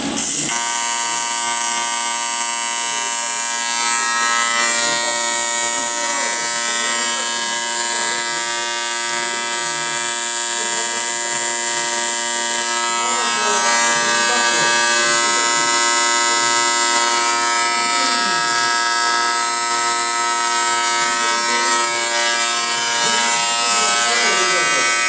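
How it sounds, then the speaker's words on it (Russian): A sewing machine runs in a home workshop with a steady electric motor whine, a continuous buzzing hum rich in overtones that holds for the whole stretch with small shifts in pitch. "Брат Максуд сейчас он будет исполнять на швейной машинке."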